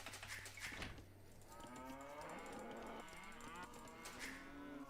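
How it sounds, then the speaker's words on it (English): A cow moos in a video game, one drawn-out bovine call sustained over several seconds with faint game clicks and effects behind it, fairly loud and without talk. "Moo."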